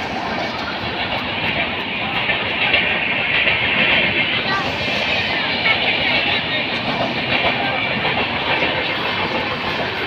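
A train rolls slowly through a railway station at night with a steady rumbling roar and faint wheel clatter, loud and continuous throughout.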